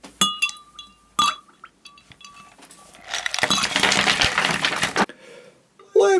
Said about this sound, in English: what could be better on a hot summer day than dropping a few ice cubes